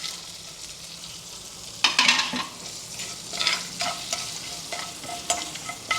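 Biryani whole spices dropped into hot oil for gongura chicken fry, a quiet background hiss that jumps into a crackling sizzle, then keeps popping and spitting more softly with occasional stirring.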